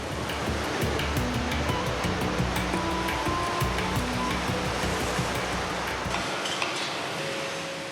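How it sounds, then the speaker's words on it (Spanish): Huge waves churned up by cruise ship propellers pound a harbour, a loud, continuous roaring wash with splashing and clattering. It eases slightly near the end. "el puerto se ve sacudido por enormes olas que acaban destrozando algunos barcos"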